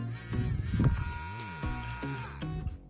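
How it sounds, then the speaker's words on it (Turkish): A small electric motor, driven at the same voltage in a homemade automatic rocking cradle, runs with a close, steady buzzing whine whose pitch wavers and sweeps as the load changes. "Aynı voltta bu motoru çalıştırıyorum."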